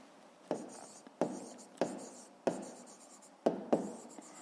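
A pen writes on paper while working a fifth-grade maths exercise, giving about six quiet, scratchy strokes in a loose rhythm, each starting with a soft tap and trailing off, heard close and alone.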